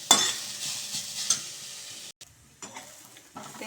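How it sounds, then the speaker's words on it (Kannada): Grated coconut roasts in a pan, with a soft scraping stir and faint sizzle for about two seconds, a brief pause, then a few quieter scrapes. "ಕಪ್ಪು ತೆಂಗಿನಕಾಯಿ ತುರಿನ ಸ್ವಲ್ಪ ಹುರ್ಕೋಬೇಕು. ಸ್ವಲ್ಪ ಫ್ರೈ ಮಾಡ್ಕೊಂಬಿಡಿ."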